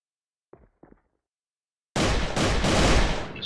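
Video game gunfire in a championship match erupts after two brief soft pops, a loud sustained burst of rapid shots and blasts filling the last second and a half.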